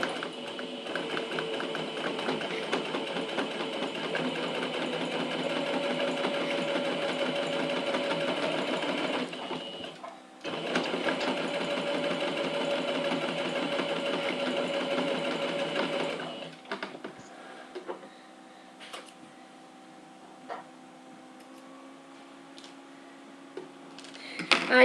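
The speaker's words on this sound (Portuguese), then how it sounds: "Vou passar aquela costurinha de pesponto." Sewing machine running steady topstitching seams on a fabric pencil case with a vinyl window, two long continuous runs with a brief pause between, then quieter ticking and handling sounds after it stops.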